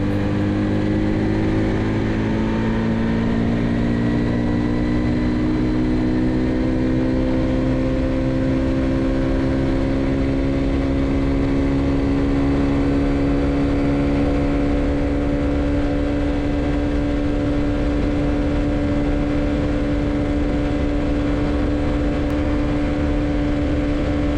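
Honda Super Cub C110 motorcycle engine at full throttle during a top speed run, a loud sustained drone whose pitch rises slowly and steadily over the whole stretch, with constant wind roar and no speech.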